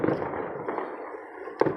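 New Year's fireworks bursting outdoors to welcome 2026, a couple of sharp cracks over a rumbling haze of distant booms and crowd noise.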